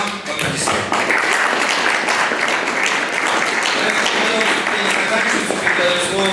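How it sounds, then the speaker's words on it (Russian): An audience at an award ceremony applauds warmly in a dense, continuous wash of clapping that holds steady to the end, with some voices heard under it. "Татьяна Дмитриевна, вам аплодисменты."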